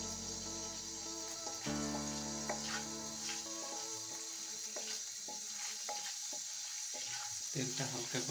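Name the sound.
oil heating and sizzling in a pan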